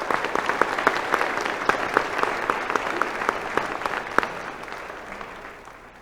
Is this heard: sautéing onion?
no